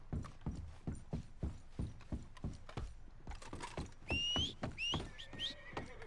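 Horse hooves clip-clop in a steady, rhythmic trot in Red Dead Redemption 2, close and clear, with a few faint chirping whistles joining in the latter half.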